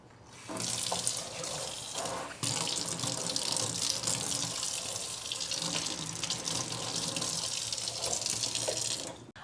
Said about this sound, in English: I'm gonna give her leaves a little rinse off.